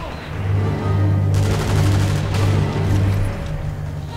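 Gunfire in the World War II sniper game Sniper Elite V2, a dense rattling burst of shots over a steady low rumble, loud and near, lasting a few seconds.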